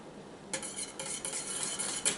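A spoon or whisk stirs boiling mirror glaze in a pot, making soft rhythmic scraping and tapping strokes over a faint background hiss, close and fairly quiet with no voices.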